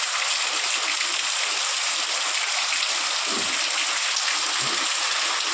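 Steady rain hisses continuously, a dense even patter with no pauses and no voices.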